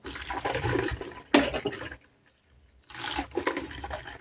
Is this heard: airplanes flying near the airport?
no